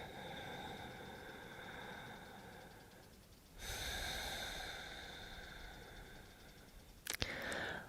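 Slow, deliberate breaths during a pelvic floor exercise, a long soft breath followed by a louder, airy exhale, with a brief click near the end.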